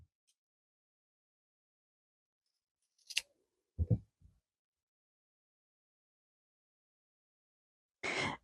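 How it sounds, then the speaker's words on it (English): Fabric layers are trimmed with scissors beside a stitch line while making a table runner, giving a few short, close snips separated by silence, then a brief rustle at the end. "I can just flip the corner back and trim the bottom 2 layers 1/4 inch away from the stitch line."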